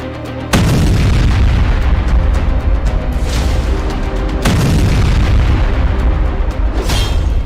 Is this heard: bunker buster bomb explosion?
yes